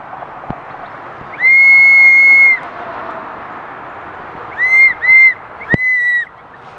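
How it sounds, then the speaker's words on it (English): A whistle blows one long shrill blast, then after a pause several short sharp toots in quick succession, loud against a quiet outdoor background at the Nueces River. "So now blow your whistle."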